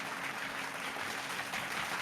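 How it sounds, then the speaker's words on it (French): An audience claps on request, a faint, steady crowd patter with a low background hum. "Applaudissez en serbe s'il vous plaît."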